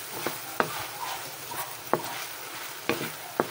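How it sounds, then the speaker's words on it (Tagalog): Broccoli chicken with tofu being stirred in a pan, with a few sparse spatula clicks and scrapes over a gentle frying hiss. "Ayan, haluin mo nang haluin."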